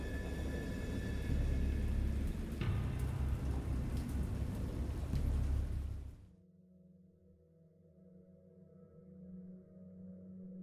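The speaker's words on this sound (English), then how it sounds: "I heard peals of thunder and other tones which nature utters only in her wildest moods" Heavy rain and rolling thunder from a storm in the horror video game Dagon, a loud dense downpour that cuts off abruptly after about six seconds, leaving only a low, faint rumbling drone.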